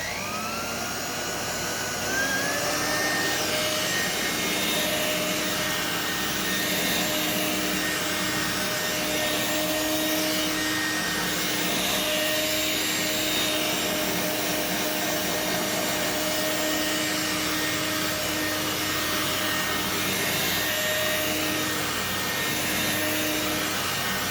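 A three-speed Regina electric broom vacuum cleaner runs steadily with a loud, whining motor drone and airflow rush that holds constant for the whole stretch after a brief start.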